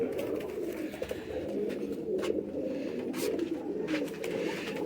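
Battery-breed pigeons offered for sale give soft, low, continuous cooing and throaty murmurs, with several birds close by and scattered rustles throughout.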